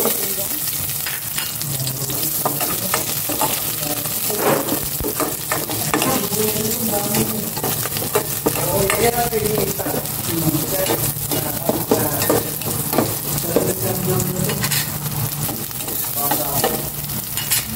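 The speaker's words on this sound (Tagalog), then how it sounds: "Gisa ko na itong" Sautéing in a hot pan as a pork dish is started, a steady loud sizzle and frying hiss running throughout with occasional clicks of a utensil stirring against the pan.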